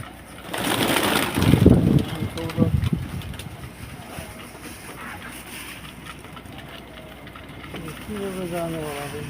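Exotic doves in a rooftop garden coo in the morning: low, muffled calls cluster in the first few seconds beneath a person speaking, followed by a quieter stretch of outdoor ambience.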